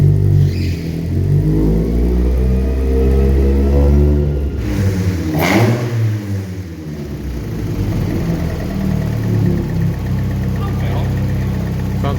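A naturally aspirated 16-valve Mk2 Golf GTI engine with individual throttle bodies revs on a dyno. It is loud and close, with raspy rising and falling sweeps over a deep rumble and a brief dip back toward idle, and voices can be heard beneath it.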